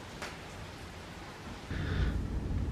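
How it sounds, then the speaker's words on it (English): Heavy rain from a thunderstorm in Green Valley, Arizona, in the early morning hours, a steady wash that swells louder and closer partway through, with no voices. "Raining hard again."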